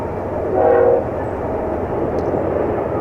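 A steady rumble of a train rolling across the high bridge over the New River, with a brief horn blast near the start, heard from a distance.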